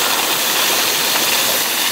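Water gushes from a leaking pipe at Kalyan Chowk in Dharan, a steady, loud, broadband rushing roar that holds unbroken throughout with no talking.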